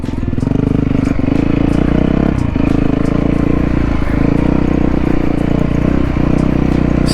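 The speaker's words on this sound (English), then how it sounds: "Well, here we are, still out in the desert, on the old supermoto." An old supermoto motorcycle on street tires riding through the desert, its engine droning loud and close with a steady pulsing roar and occasional gear-shift dips and rattles.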